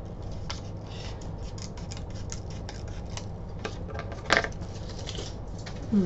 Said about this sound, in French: Alors je vais essayer de le découper au plus près des lettres.